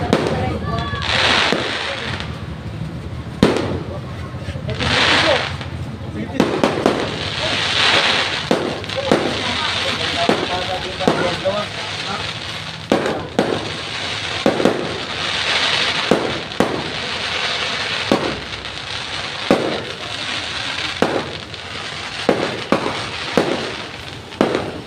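Fireworks and firecrackers burst repeatedly in an outdoor neighborhood celebration, sharp cracks and booms arriving irregularly at near and moderate distances over a constant background din, with people talking throughout.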